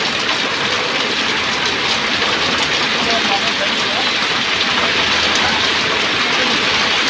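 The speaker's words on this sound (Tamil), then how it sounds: "இப்போ மழை பார்த்தீங்கன்னா மழை ஜோர்னு நிறைய மழை பெஞ்சினே இருக்குது" Sudden heavy rain pouring nonstop in the early evening, a loud, dense, steady hiss of a downpour that holds evenly without pause from start to finish.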